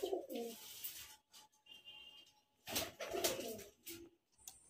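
Pigeons, including Kalshira, Teddy and Murshidabadi Giribaz high-flying breeds, coo in short soft bursts with scattered chirps and rustling, faint and close, no people talking.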